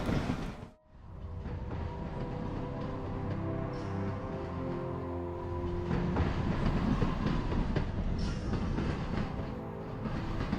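Metal train wheels rolling steadily over rails on the FCAB railway between Chile and Bolivia, a continuous loud rumble with faint clicking joints and brief higher squeals, no voices.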